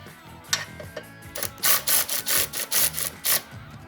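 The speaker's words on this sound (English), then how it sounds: "I just lightly tighten two of the bolts on opposite sides of the pressure plate" A ratchet clicks in a steady series of close, crisp bursts while tightening pressure plate bolts on a clutch for a 454 engine and SM465 transmission in a 1955 International Harvester, after a few scattered clicks at the start.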